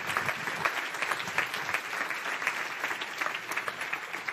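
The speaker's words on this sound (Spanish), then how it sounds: "Un fuerte aplauso" Steady audience applause at a dental symposium, sustained dense clapping from a hall full of people for the full stretch with no speech over it.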